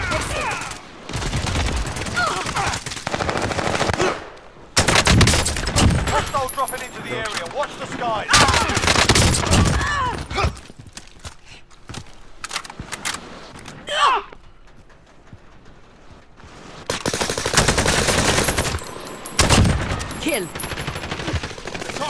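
Rapid bursts of video game gunfire, loud and close, with brief lulls between volleys and automatic fire returning in heavy clusters.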